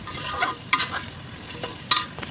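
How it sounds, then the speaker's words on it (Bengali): Capsicum frying and being stirred in a hot pan for a home-cooked biryani, soft sizzling hiss broken by a few scraping stirs of a utensil, close and unaccompanied by talk. "ক্যাপসিকামটা দিয়ে দিয়েছি, তো ক্যাপসিকামটা একটু ভালো করে ভেজে নেবো।"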